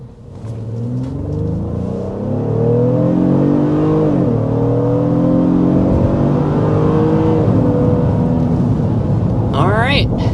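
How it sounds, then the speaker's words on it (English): A 2026 Honda Pilot Elite SUV with a V6 accelerates hard, the engine's growl climbing steadily in pitch and holding loud and close from start to finish, with no talking. "you can hear that growl of a V6"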